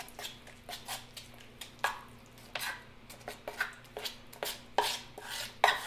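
Tile backsplash mortar powder being mixed in a bucket, with repeated close scraping and knocking strokes of a trowel against the sides in an uneven rhythm over a steady low hum.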